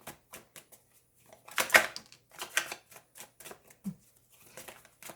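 Tarot cards being handled during a Libra reading, with a run of crisp, close taps and flicks, including one louder cluster of rustling snaps, and short pauses between them. No one speaks.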